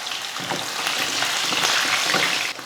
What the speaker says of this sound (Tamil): ஒரு 10-20 போல் சின்ன வெங்காயமும் ஒரு 2 பல் பூண்டு சேர்த்துட்டு நல்லா வதக்கி விட்ருவோம்